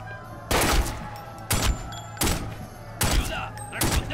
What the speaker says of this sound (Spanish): ¡Responded a sus disparos!